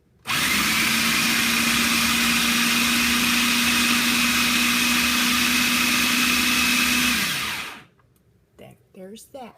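Kitchen blender whirring while making salsa with tomatoes, a loud steady motor drone holding one pitch for about seven seconds before winding down, followed by brief talk.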